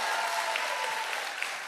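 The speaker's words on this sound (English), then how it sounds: "One last time, big round of applause, Molly Ringwald" Brief audience applause for actress Molly Ringwald at an awards event, a steady, fairly loud patter of many hands clapping with a faint tone beneath, ending abruptly.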